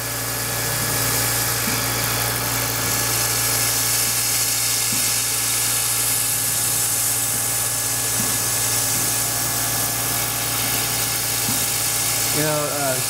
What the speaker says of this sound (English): Might as well deburr while it's in there